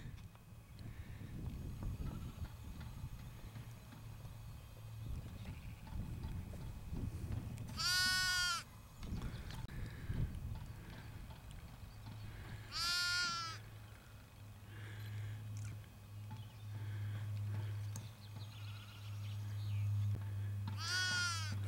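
A young sheep bleats for its mother in a hillside field in the Peak District, three loud, clear bleats spaced several seconds apart over outdoor wind and low rumbling.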